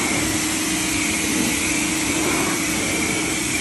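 An Active 2.0 high-flow pressure washer rinsing a car during a ceramic coating job, a steady, loud hissing spray with a motor drone underneath, continuous and close.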